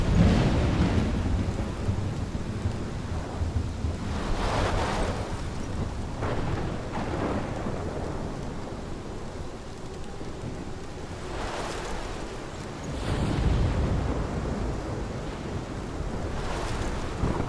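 A storm rages in the video game Life is Strange, with heavy rain and gusting wind roaring continuously and several deep rolls of thunder swelling and fading throughout, with no voices.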